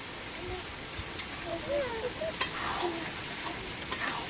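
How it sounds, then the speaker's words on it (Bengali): Duck meat sautéing with spices, coriander and dried chili powder, in a pan on a rainy day, giving a steady soft sizzle with a few faint stirring clinks, moderately near. "মাংসটা কেবল কষাতে দিয়েছে"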